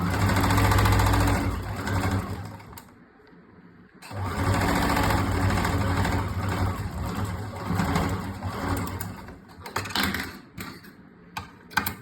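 A sewing machine stitches a princess-cut blouse in loud, rapid mechanical bursts, pausing briefly near three seconds and again near the end, with no talking.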